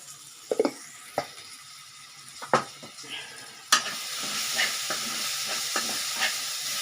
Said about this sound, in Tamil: இது இன்னும் கொஞ்சம் நல்லா வதங்கி வரட்டாங்க தக்காளி நல்லா வதங்கி வந்துடணும்